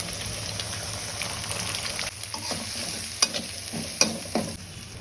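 Egg frying with chopped onion and chili is stirred in a hot pan: continuous close sizzling with occasional sharp utensil scrapes and knocks against the pan, and no talking.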